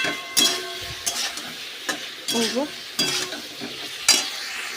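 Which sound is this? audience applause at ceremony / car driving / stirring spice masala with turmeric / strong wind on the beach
stirring spice masala with turmeric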